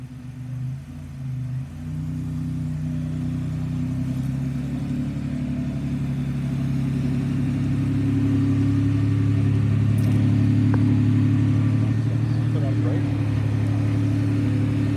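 Classic car at a Barrett-Jackson auction in Palm Beach, its engine idling in a low steady rumble that swells slightly as it is driven out toward the block, close and continuous with little else around it.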